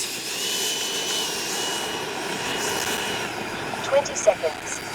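A FreeWing 90mm F-22 RC jet's electric ducted-fan motor runs at a steady high whine for several seconds, moderately close, with a couple of brief louder bumps near the end and no clear talk over it.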